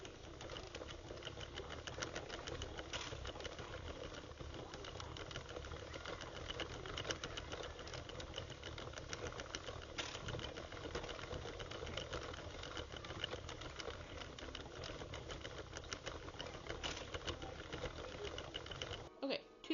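A hand-cranked knitting machine worked steadily through rows of a knitted tube for a hat, giving a continuous mechanical whirring clatter with fine rhythmic ticks that runs throughout at moderate level, with faint background speech.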